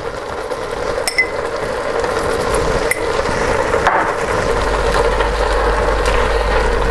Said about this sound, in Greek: Ανακατεύουμε καλά, να πάει ομοιόμορφα.